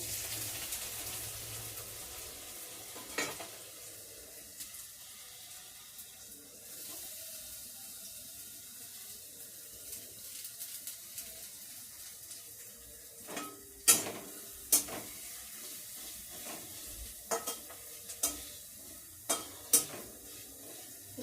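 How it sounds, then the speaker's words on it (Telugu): Onions dropped into hot oil in a pan for a broad bean and tomato curry give a steady soft sizzle, with sharp clinks and stirring scrapes toward the end, close by and with no one talking. "వట్టి ఆయిల్ కాగిన తర్వాత ఉల్లిపాయలు వేస్తాను"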